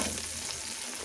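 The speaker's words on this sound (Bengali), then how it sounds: "ওই তেলের মধ্যে আলুটাকে ভেজে নেব" Potatoes frying in hot oil, a continuous close sizzle heard alone for about a second.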